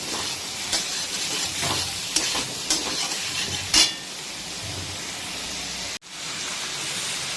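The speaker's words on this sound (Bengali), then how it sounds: "এখানে পেঁয়াজটা যতক্ষণে ভাজা হচ্ছে" Onions sizzle steadily while frying in a pan for an oil-free thin chicken curry, with a few stirring scrapes and clinks over a continuous hiss.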